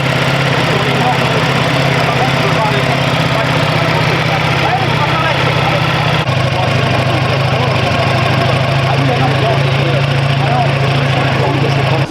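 A 2025 Ducati Panigale V4S motorcycle engine runs loudly and steadily at idle close by, a constant throbbing drone, with voices talking over it.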